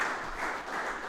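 A church congregation applauding the Lord, a brief burst of many hands clapping in a dense, even patter that swells slightly and stays moderately loud, without talk.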